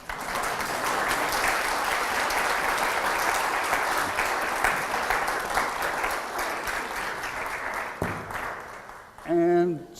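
A lecture audience claps together at the close of a talk on faith, a dense, sustained wash of applause for about eight seconds that thins out, followed by a brief voice near the end.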